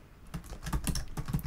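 Code typed on a computer keyboard: a quick run of close, distinct key clicks in an uneven rhythm, alone with no talking.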